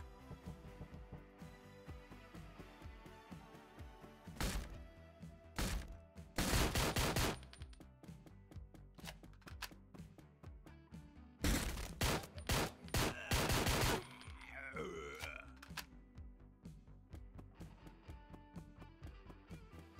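Rapid bursts of SWAT rifle fire in the video game Door Kickers: Action Squad, loud clusters of shots separated by quieter stretches of game sounds and scattered single reports.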